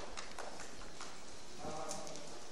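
Hooves of a two-year-old Andalusian colt trotting on a loose rein during training, a steady soft clip-clop rhythm under continuous background noise.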